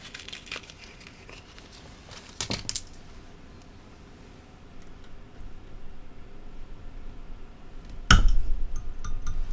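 A fly-tying hook for a hare's ear nymph is clamped into a vise, giving a few crisp, close metallic clicks and clinks over quiet handling noise, with one sharp snap near the end.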